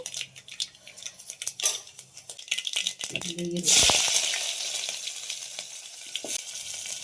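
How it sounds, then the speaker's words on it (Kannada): Cumin and mustard seeds splutter in a spoonful of hot oil for rasam, with a loud crackling sizzle that bursts up midway and keeps hissing, and a utensil clatters against the pan. "ಒಂದು ಸ್ವಲ್ಪ ಜೀರಿಗೆ ಒಂದು ಸ್ವಲ್ಪ ಸಾಸಿವೆನ ಹಾಕ್ಬಿಟ್ಟು ಸಾಸಿವೆ ಎಲ್ಲ ಚೆನ್ನಾಗಿ ಸಿಡಿದಾದ್ಮೇಲೆ"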